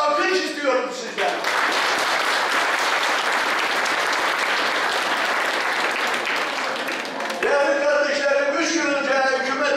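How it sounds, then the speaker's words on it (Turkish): Loud, dense audience applause at a gathering in the Fethiye cemevi in Malatya, lasting about six seconds between stretches of someone speaking over a microphone. "onlara bir alkış istiyorum sizden"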